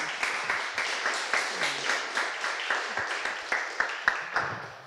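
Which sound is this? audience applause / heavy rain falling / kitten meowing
audience applause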